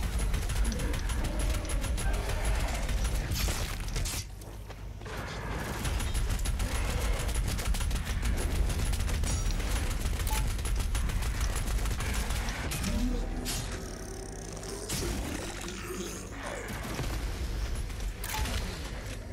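Rapid automatic gunfire from weapons shooting at an enemy in the DOOM Eternal game, dense loud bursts running almost continuously with brief lulls and heavy low-end impacts.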